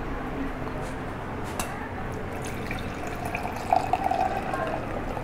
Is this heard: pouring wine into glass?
yes